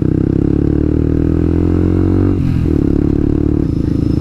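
Yamaha R15 v2 motorcycle being ridden, its engine a steady, loud droning hum throughout with a brief dip in pitch midway, close to the microphone and with no talking over it.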